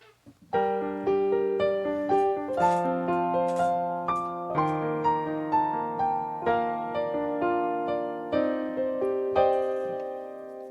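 A cheerful melodic tune played on bright synth tones, steady plucked notes over a sustained bass line, with no voices.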